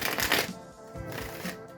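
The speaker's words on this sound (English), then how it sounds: "So I did shuffle the deck." A deck of tarot cards is shuffled close up in a few quick riffling bursts of papery fluttering, with short gaps between them and no voices.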